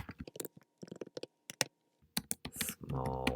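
Bursts of quick key clicks come from a computer keyboard on a Mac, with short pauses between runs and a louder, denser patch of typing at the end.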